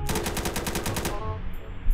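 Rapid automatic gunfire in the Roblox game Blackhawk Rescue Mission, a fast burst of evenly spaced shots for over a second that then trails off into echoing rumble, loud and close with no talking.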